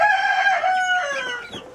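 A rooster lets out one loud, drawn-out crow close by in a backyard poultry yard where hens are kept, its call breaking and fading toward the end with hints of clucking.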